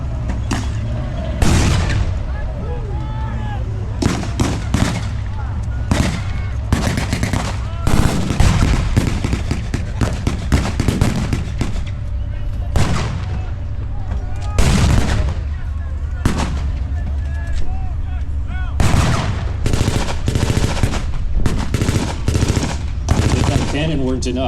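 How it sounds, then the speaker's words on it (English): Machine-gun and gunfire bursts from .50 and .30 caliber guns at a tank battle reenactment with a Sherman and Panzer III, loud repeated rattling volleys and sharp shots throughout under a constant low engine rumble, with faint talk. "Having 50 caliber and 30 caliber machine guns make them moving pillboxes"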